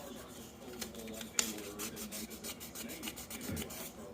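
Fine 1000–1500 grit sandpaper rubbed over the contacts of an electromechanical stepper unit from an EM puck bowler, a close, steady rasping scrub in repeated short back-and-forth strokes.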